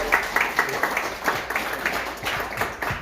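An audience at a political endorsement event claps in response to a call for applause, producing uneven, rhythmic bursts of hand claps that pulse at moderate loudness across the clip.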